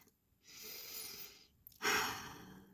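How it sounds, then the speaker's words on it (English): A deep inhale followed by a slow, audible exhale, then a second strong breath toward the end; close, soft and breathy with no talking. "take a deep breath"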